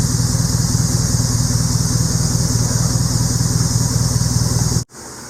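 Classic Jaguar car with an ignition fault runs at a steady idle, loud and close, with a constant mechanical drone that cuts off abruptly near the end.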